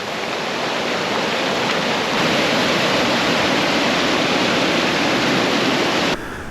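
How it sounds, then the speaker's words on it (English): A small waterfall in the Australian bush pours as a steady, loud, close rush of water, unbroken throughout and heard on its own with no voices. "you get your own little waterfall"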